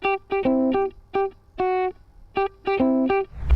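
Electric guitar with an effected, chiming tone picks a bright, stop-start riff of short repeated chords, up close and on its own.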